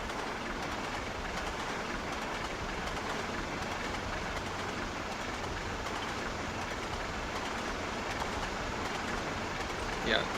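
Freight train rolling alongside, heard as a continuous steady rumble and rail noise filling the whole stretch at moderate level, with faint clicking, no clear talking.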